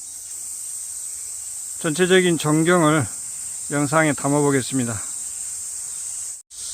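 Cicadas buzz loudly at Seonamsa temple on Jogyesan in Suncheon, a steady high, shrill drone that runs unbroken from start to end while someone talks over part of it.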